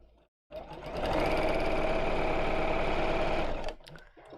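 A domestic sewing machine runs steadily for about three seconds, stitching straight lines through fabric with a fast, even mechanical whir that starts and stops abruptly, close and alone without talk.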